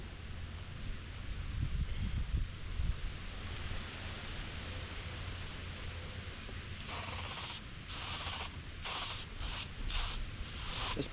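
Bursts of spray paint hiss in short repeated blasts during car body work near a bumper masked with cloth, rising over a steady background rumble in the second half.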